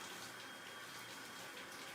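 Cold shower water, just above freezing, pouring in a steady, even hiss that stays close and unbroken.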